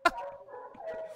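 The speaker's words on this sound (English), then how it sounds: "Man, those dogs are loud." A dog gives a single short, fairly faint bark, followed by a thin whine or whimper, with no talking.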